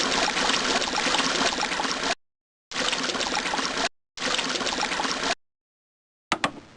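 Water is poured into an animal exhibit in the game Marine Park Empire, heard as three separate bursts of loud rushing, splashing flow, each cut off sharply into silence, then a short final splash.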